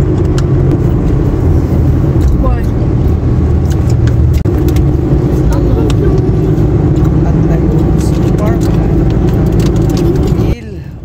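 A Mitsubishi Strada pickup with a 3.2 liter diesel engine drives along, its steady cabin drone and road rumble loud and constant while a person talks over it, before the noise drops away at the end.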